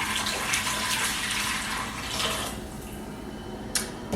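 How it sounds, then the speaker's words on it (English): Warm water pours steadily into an Instant Pot with a continuous rushing splash, ending with a brief clink; no voices. "it's 4 cups of warm water we're going to add to the Instant Pot"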